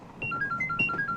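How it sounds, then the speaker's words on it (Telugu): A mobile phone ringtone plays a short repeating electronic melody of bright tones, several quick notes in rhythm, clear and fairly close. "మీ నాన్నగారు ఫోన్. లిఫ్ట్ చేయండి."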